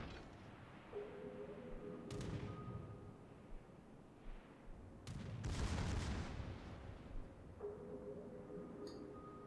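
Naval gunfire in World of Warships, heard from behind a smoke screen, with several booming salvos and crackling blasts over a low ambient hum and intermittent tonal interface sounds, moderately distant.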